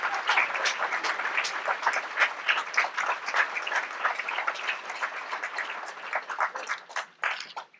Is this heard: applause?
yes